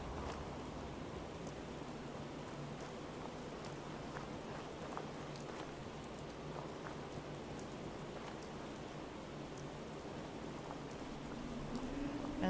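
Steady rain falls in the Fallout 4 game world, a dense, even hiss of drops on surfaces that holds unbroken for the whole stretch with no voices over it.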